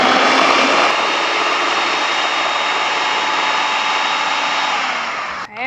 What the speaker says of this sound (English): Pop this lid on and blend it.